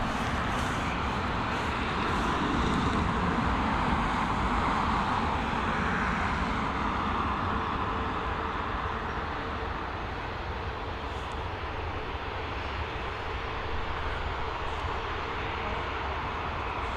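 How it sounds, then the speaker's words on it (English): A SmartLynx Airbus A320 in from Stockholm at Dublin Airport gives a steady, broad jet engine roar that holds loud and even throughout, with no voices. "There's the A320 SmartLynx"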